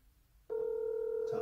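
A telephone dial tone starts abruptly after a brief quiet moment and holds steady and clear while a call is being placed, with a faint murmur near the end.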